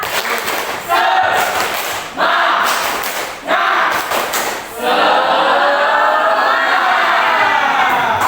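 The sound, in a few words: class clapping the "tepuk semangat" spirit clap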